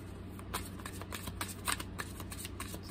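Tarot cards being shuffled for a reading, a steady run of soft riffling and flicking clatters with a low background hum throughout.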